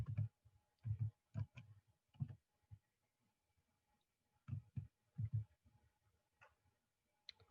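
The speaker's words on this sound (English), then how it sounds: "I'm going to go down here and type total." Keyboard keys tapped in a few short bursts while entering text into an Excel 2016 spreadsheet, close and fairly quiet, with pauses between clusters of clicks.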